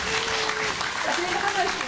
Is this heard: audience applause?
yes